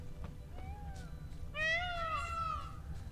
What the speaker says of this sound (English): It sounds like a cat, but I'm gonna guess it's a peacock.